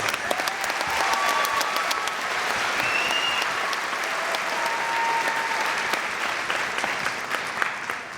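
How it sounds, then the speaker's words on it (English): Sustained audience applause at a 2019 senior awards ceremony for the welding program, a steady dense wash of clapping from a large crowd with a few faint whistles, loud and continuous throughout. "One more round of applause, please,"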